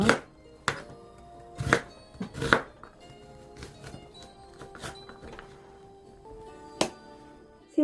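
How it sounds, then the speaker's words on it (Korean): Onion being finely chopped with a knife on a cutting board, a few sharp thunks spaced irregularly and close up, with quieter taps between and no talking. "이것도 잘게 썰어야 되겠죠."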